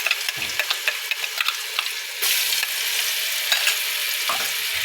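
Ginger-garlic paste sizzles and fries in a hot pan while being stirred for chicken biryani, a steady bright crackle with a sudden louder surge of sizzling midway and soft scraping stir strokes throughout.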